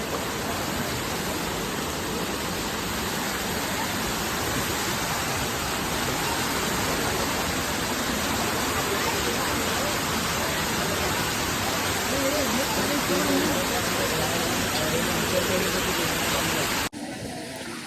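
A waterfall at Lonavla roars continuously, a loud dense rush of water filling the scene until it cuts off abruptly near the end.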